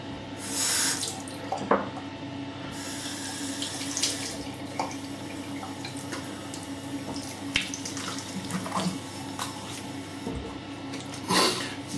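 Water runs from a tap to rinse shaving soap out of a shaving brush, a steady close splashing flow with small clinks and drips along the way, no voices.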